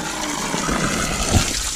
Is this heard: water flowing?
yes